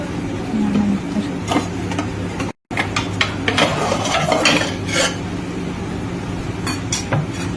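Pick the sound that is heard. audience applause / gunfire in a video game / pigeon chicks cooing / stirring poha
stirring poha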